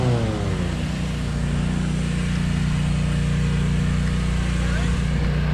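An engine holding a steady, loud drone under throttle, with a low hum and a gradual rise in pitch at the start, continuing without a break. Speech is heard faintly underneath.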